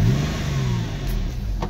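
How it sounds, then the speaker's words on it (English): An old car engine runs steadily after starting, a close, continuous low rumble that stays fairly even for the whole stretch with no talk over it. "car starts up and actually runs pretty decent."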